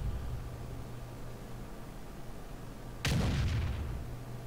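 A single heavy S51 tank gun blast firing an armor-piercing shell in World of Tanks, a sudden loud boom with a rumbling tail, after several seconds of steady engine hum and noise.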